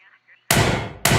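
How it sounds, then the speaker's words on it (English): Two loud, sharp gunshot bangs go off close by inside a trailer, the first after a brief near-silence and the second about half a second later, each with a short ringing decay. "From inside the trailer, 2 large bangs go off."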